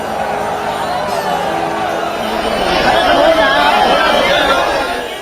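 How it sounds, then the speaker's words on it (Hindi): A huge crowd of Hindu devotees at the Maha Kumbh on Basant Panchami fills the air with dense, steady chatter and murmuring, a broad wash of many voices that swells slightly midway with no single voice standing out. "महाकुंभ में बसंत पंचमी पर उमड़ी श्रद्धालुओं की अपार भीड़।"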